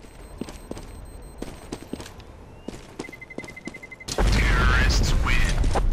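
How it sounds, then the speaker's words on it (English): A loud bomb explosion in Counter-Strike: Global Offensive erupts suddenly after scattered game footsteps and gunfire pops, then roars on as sustained blast rumble and debris noise through the end. "You might die from that. It's a really big explosion."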